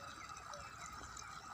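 Irrigation water flowing steadily through a farm field in a village, a faint, even wash of running water that continues unbroken throughout.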